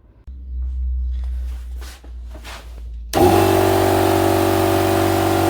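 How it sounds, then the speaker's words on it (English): A motorcycle workshop air compressor starts abruptly after a few seconds of low hum and handling noises, then runs on as a loud, steady mechanical drone with a strong motor whine and no talking. "As you can tell, you can barely hear the compressor."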